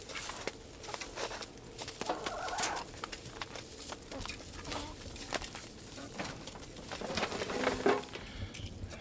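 Domestic ducks and hens, including Orpington hens, call and cluck around a backyard flock in Maine, a busy mix of bird calls and scratching patter running steadily throughout at moderate distance.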